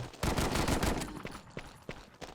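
Rapid bursts of video game gunfire crack out in quick succession, loud and close at first, then a few sparser shots trail off.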